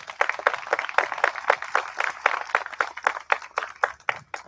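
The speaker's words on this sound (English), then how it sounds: "So let's give those two groups a big round of applause." Steady applause from an audience at a naturalization ceremony, many hands clapping close and sustained throughout without pause.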